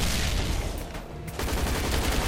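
Player gunfire in Zombies Monsters Robots, a steady loud barrage of rapid shots that hardly lets up across the whole stretch, with no voices over it.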